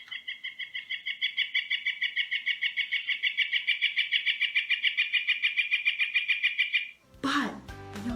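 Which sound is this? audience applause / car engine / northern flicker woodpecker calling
northern flicker woodpecker calling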